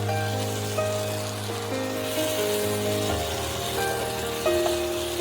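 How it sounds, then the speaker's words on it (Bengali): Ridge gourd with grated coconut and sugar sizzles steadily in a pan as it is sautéed, a continuous close frying hiss with faint crackles, no talking. "আমি আরেকটু এটাকে কষিয়ে নেব"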